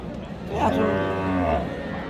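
A Sahiwal-Sindhi mixed cow at a cattle market gives one long, loud moo close by, rising and then falling off, over faint background murmur.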